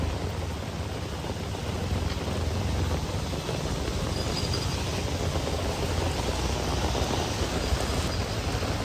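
Heavy monsoon rain pours steadily during a flood in Karjat, a dense, even hiss of downpour that fills the whole stretch without a break and with no voices.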